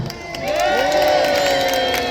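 A crowd in Peasholm Park, Scarborough cheers at a staged naval battle show, a loud sustained outdoor roar of many voices with shouts and whoops.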